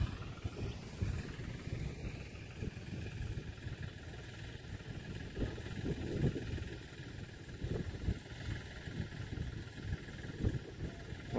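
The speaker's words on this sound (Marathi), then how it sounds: "आता बघा इथं ट्रॅक्टर चालू आहे. इकडं फवारणी चालू आहे मागे." A tractor pulling a sprayer runs steadily in a soybean field, a low continuous engine rumble with gusty wind noise over the microphone, fairly quiet and unbroken throughout.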